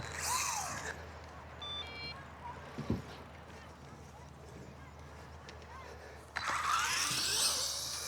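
A brief series of high electronic beeps sounds once, close and fairly faint, between stretches of whirring motor and outdoor noise.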